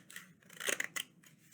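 Scissors snip through a paper plate to cut out triangles, a few quick crisp cuts in close succession, near and clear with no talking.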